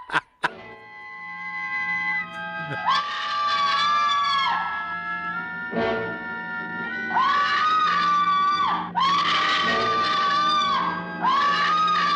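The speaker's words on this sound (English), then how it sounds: "She has a good scream too." A woman screaming in the 1959 horror film House on Haunted Hill, long shrill wailing cries that rise and break off and then start again, loud and close, with a brief sharp hit at the start.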